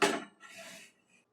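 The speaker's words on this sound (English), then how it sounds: "So we're gonna slide this into the oven right now." A pan of chicken slides into a preheated oven for baking, opening with a quick metallic clatter and scrape, then a softer sliding rustle that fades within about a second.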